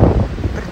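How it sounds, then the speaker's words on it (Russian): Strong gusting wind during a storm warning near the Kaliningrad coast, a loud low buffeting roar battering the microphone in a brief close burst. "Очень сильно поднимается ветер."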